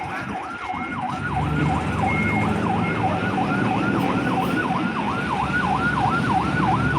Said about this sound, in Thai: เนี่ยครับรถดับเพลิงนะครับ